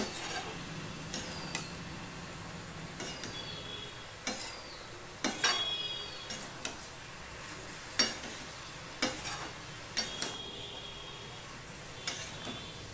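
Spinach stirred in a cooking pan, a series of sharp scraping clinks from a utensil against the pan at irregular intervals over a faint low sizzle, close and without talk.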